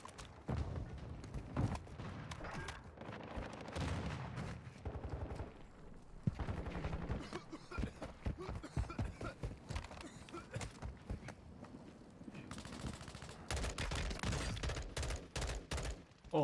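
Rapid bursts of automatic gunfire from a weapon in the video game Warzone 2, firing in repeated volleys separated by short pauses, loud and close, with mechanical clicks and no voices.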